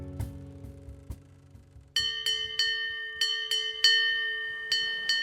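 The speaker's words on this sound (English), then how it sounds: "In the dead of night, a bell rings" A bright bell rings repeatedly in a steady rhythm, each clear metallic strike ringing out after a softer, lower tolling at the start.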